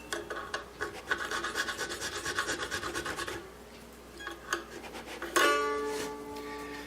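Small files rasping on a guitar nut during a setup, a quick steady run of scraping strokes, then a pause with a few scrapes and a sharper ringing stroke near the end, close and without talk.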